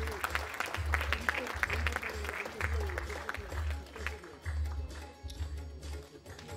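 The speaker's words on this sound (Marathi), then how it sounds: "जोरदार टाळ्या त्यांच्यासाठी देखील." Applause from the audience at a Marathi kirtan competition launch event on stage, a sustained wash of many hands clapping at moderate distance, steady throughout with a low hum underneath.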